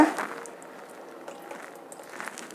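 Tamarind juice pours into a pot of avarekalu saaru with soft, faint liquid splashing and bubbling that carries on quietly, with no talking.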